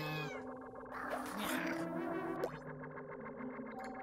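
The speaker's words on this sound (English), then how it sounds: "A cat." A cartoonish cat meows in the Chuchel video game, its stretched, warbling cry processed with heavy distortion and echo, loud and up front over busy game music and effects.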